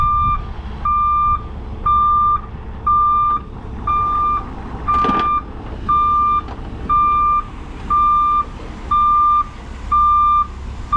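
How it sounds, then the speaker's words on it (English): A vehicle backing up to pull a stuck Peterbilt truck from ranch mud gives steady, evenly spaced reversing beeps over a low engine rumble, loud and close with no talk. "I'm gonna back up and pull at the same time."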